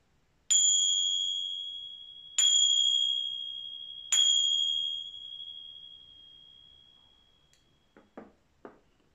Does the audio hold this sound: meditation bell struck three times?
yes